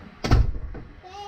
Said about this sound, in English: And now close the door, please.